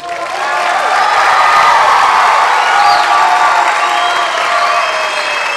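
A large graduation audience at a Hawaii spring 2011 commencement bursts into sustained, loud applause with scattered cheers and whoops, a dense continuous roar that holds steady throughout.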